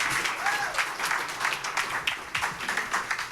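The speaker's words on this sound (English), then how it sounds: "So please give a round of applause for George." An audience at a labor festival event claps in a dense, steady round of applause, moderately near, with a few voices mixed in.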